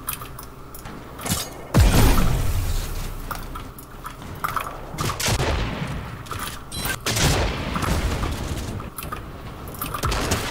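Fortnite gunfire crackles in sharp bursts and single shots with heavy booms, loud and close, scattered irregularly across a busy game soundscape without talking.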